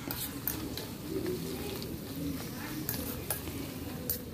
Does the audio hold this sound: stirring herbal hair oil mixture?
yes